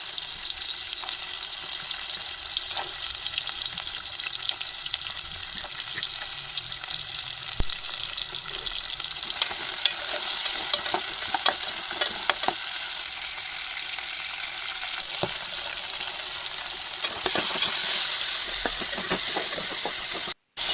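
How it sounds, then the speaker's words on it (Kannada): Onion, tomato, garlic and coriander fry in one or two spoons of oil in a pot, sizzling and hissing steadily for a long stretch with occasional stirring scrapes and clinks, close up and without talk. "ಇದನ್ನೆಲ್ಲನೂ ಒಂದು ಪಾತ್ರೆಗೆ 1-2 ಸ್ಪೂನಷ್ಟು ಎಣ್ಣೆ ಹಾಕ್ಕೊಂಡು ಇದನ್ನೆಲ್ಲ ಹಾಕಿ ನಾವು ಫ್ರೈ ಮಾಡ್ಕೋಬೇಕು"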